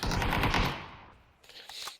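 Rapid automatic gunfire in PUBG on the Miramar map rattles loudly in a dense burst, fades away, then a second shorter volley of shots follows, with no talking.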